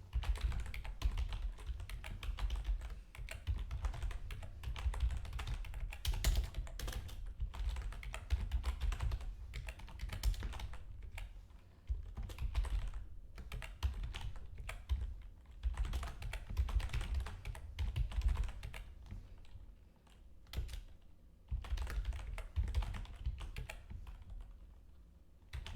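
A formula is typed on a computer keyboard in continuous busy key clatter. The keys are close and fairly loud, with short pauses between bursts, and there is no speech throughout.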